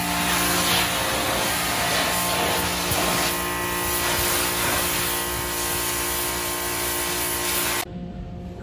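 A car getting a spray-down wash: a continuous loud hiss of pressurised water blasting across the bodywork, heard from inside, steady for about eight seconds before cutting off abruptly.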